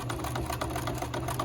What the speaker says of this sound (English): as you sew along